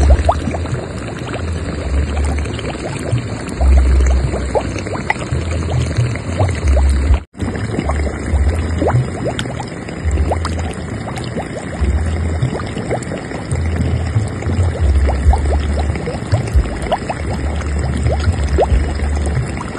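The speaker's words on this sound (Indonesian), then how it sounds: "Gelembung udara keluar dari dalam bumi." A mud eruption in Sidoarjo where gas bubbles burst out of the ground, heard as a loud, steady gurgling and bubbling of churning wet mud that continues throughout with no voices.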